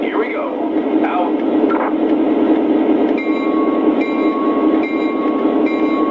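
An O gauge model train runs under an SD40 locomotive, giving a constant close rumble and hum of wheels and motor, with faint squeals and tones riding on top throughout.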